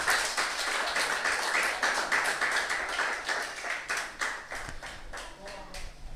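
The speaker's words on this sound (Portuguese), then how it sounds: "Pode bater uma salva de palmas, você que pode." A church congregation claps along during an evening service, a steady stream of hand claps filling the space, fairly loud and continuous, with voices and talk mixed in.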